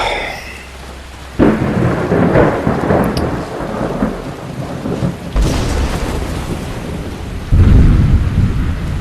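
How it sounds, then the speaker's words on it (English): Rain and thunder fall in the video game Skyrim, with steady rain under loud, rolling thunderclaps that surge in several heavy bursts. "Seems to be raining."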